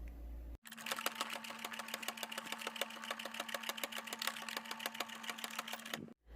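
A sewing machine stitches a sweatband around the brim of a wide-brimmed sun hat, a fast, even run of needle strokes that starts abruptly, holds steady for several seconds and then stops.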